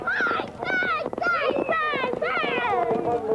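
Hoofbeats of two horses galloping in the Tarcoola Cup, the feature race of an annual country race meeting in Tarcoola, Australia, run beneath continuous loud race commentary.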